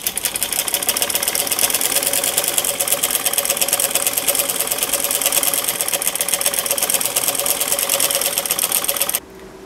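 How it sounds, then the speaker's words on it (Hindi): A sewing machine stitches the folded hem of a kurti, running fast and continuously with a dense, loud mechanical whir and clatter, then stopping abruptly just before the end. "इस तरह से बिल्कुल बारीक बारीक मोड़ते हुए इसके ऊपर से मैं सिलाई लगा लेती हूँ"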